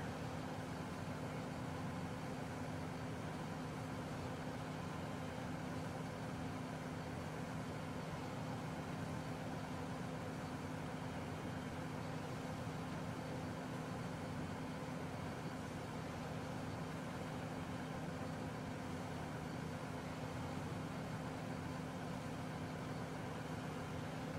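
A tractor engine drones steadily in Farming Simulator 2013, a faint, even hum with a low tonal whine and no breaks, with no talking.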